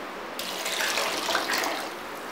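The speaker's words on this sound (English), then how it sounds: "now to this we'll be adding water for soaking" Water pours steadily from a tap into a bowl of half a kilogram of washed sago pearls for soaking, a continuous close splashing stream that starts abruptly and runs without talk.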